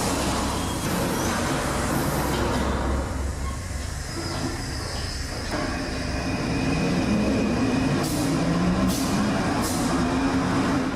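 An underground train rumbles and rolls away along the tracks, a loud low roar with metallic squeals and clacks, echoing in an enclosed space.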